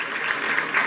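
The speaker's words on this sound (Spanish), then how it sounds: "Aplausos para él." Brief burst of audience applause at an awards ceremony, a dense wash of clapping heard close and fairly loud for under a second.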